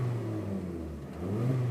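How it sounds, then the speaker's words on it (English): A car's five-cylinder engine with a D-cat exhaust idles and revs after starting, a steady, close, throaty drone that dips briefly and swells again, with no talk. "you can hear that lovely 5-pot engine noise"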